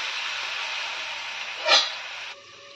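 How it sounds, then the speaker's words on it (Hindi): A splash of water hits a hot pan of spiced ridge gourd being cooked dry with masala, giving a steady loud sizzling hiss with a brief sharper burst, then a quieter simmer. "थोड़ा सा इसमें हम पानी का छींटा दे देंगे।"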